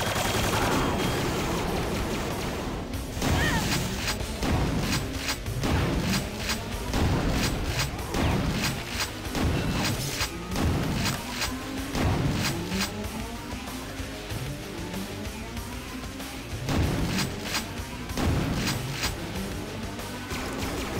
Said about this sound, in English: Having a few last bits of fun with the Hyper Blaster before I save my cells for the BFG to use against the final boss.